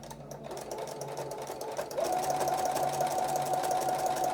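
A sewing machine runs steadily while stitching a rag quilt made from homespun fabric, a close, continuous mechanical whir that grows louder and smoother partway through.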